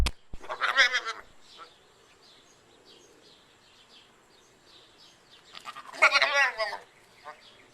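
A goat bleats twice, close by, with a short quavering cry near the start and a second louder cry about five seconds later. Quiet farmyard background fills the gap between the calls.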